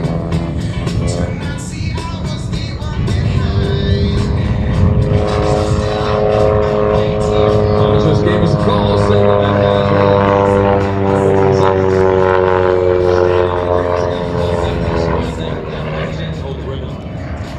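A Pitts aerobatic biplane at the 2018 Manassas Air Show drones close and loud in a low pass for a ribbon cut about 20 feet off the grass, its propeller engine pitch sliding steadily under a public-address announcer talking throughout.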